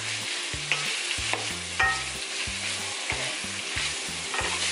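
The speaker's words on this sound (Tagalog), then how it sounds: "So ilagay na natin yung ating kalabasa. Ayan. Then igisa lang natin siya." Squash (kalabasa) and beans being sautéed in a pan with pork, steady sizzling broken by repeated clanks and scrapes of a utensil stirring, close and alone without talk.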